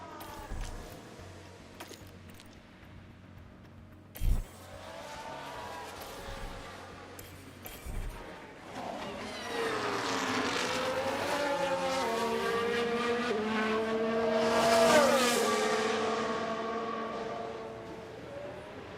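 F1 race cars in the F1 Manager 23 game during practice at the Dutch circuit, with engines whining faintly at first and then building to a louder, sustained pitch-shifting roar as cars pass, under occasional talk.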